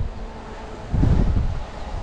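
Wind blowing along the seashore at Datça in spring, a steady rushing roar that buffets the microphone and swells into a stronger gust about halfway through.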